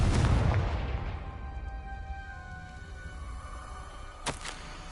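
A Confringo fire spell explodes in the video game Hogwarts Legacy, opening with a loud, deep boom that rolls into a long decaying rumble, followed by a brief sharp crackle near the end.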